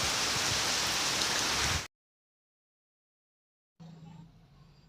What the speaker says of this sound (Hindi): तो देखिए किस तरह से झमाझम हो रही है बारिश।